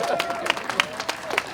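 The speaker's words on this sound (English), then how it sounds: "So a round of applause to the Board of Education" An audience at a Linden city wine tasting art expo gives a short burst of applause, scattered hand claps rising briefly in a moderately sized room, with a voice talking over them.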